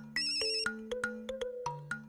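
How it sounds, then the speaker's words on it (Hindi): Mobile phone ringtone signalling an incoming call, a bright melodic electronic tune of several quick notes played alone and fairly quiet. "उसका ही फोन आ गया"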